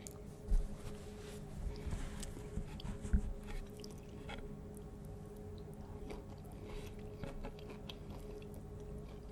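Soft, close chewing of a tri-tip sandwich with onions, irregular wet bites and squishes at a low level in a quiet room.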